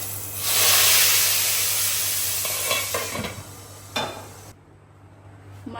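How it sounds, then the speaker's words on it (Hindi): Tadka tempering for kadhi hisses and sizzles loudly in a hot pan, a bright burst that gradually settles, broken by a few clinks and stirring scrapes before cutting off. "तड़का लगाना है।"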